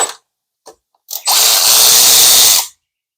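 Close, loud power tool running about 1.5 seconds while backing out 10mm valve cover bolts on a 2004 BMW Z4, after a few short clicks and faint taps.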